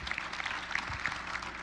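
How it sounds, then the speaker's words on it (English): A small group at a breathwork gathering claps softly for newcomers, the light, scattered applause sounding faint and somewhat distant. "Yes, let's give a round of applause for our first"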